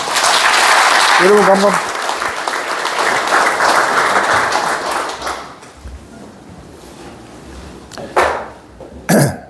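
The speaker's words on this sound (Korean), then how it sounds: "큰 박수로 모시겠습니다" Loud, dense applause from a book launch audience filling the room, gradually thinning out before someone speaks briefly near the end.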